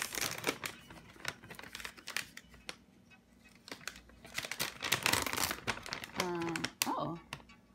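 Resealable bag of Red Mill Superfine Almond Flour crinkling and rustling in close handling, with a scatter of sharp taps and plastic crackles and a few short bursts of speech.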